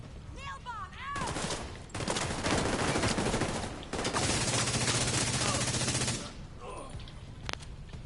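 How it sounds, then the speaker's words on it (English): A nail bomb detonates in The Division 2 in New York, followed by a long, dense roar of gunfire and blasts lasting several seconds, loud and close, with voices speaking briefly around it. "Nail bomb, out!"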